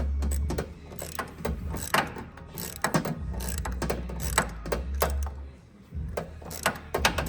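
A ratchet unscrews the carburetor screw on a mini Jeep with a front-mounted engine, making quick close clicking bursts over a low mechanical hum that drops out briefly near the end.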